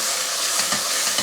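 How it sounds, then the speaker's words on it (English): Red wine being stirred into bolognese sauce in a saucepan, a brief loud hissing bubble with light scraping of the spoon along the bottom. "I'm just lifting the flavours off the bottom of the saucepan."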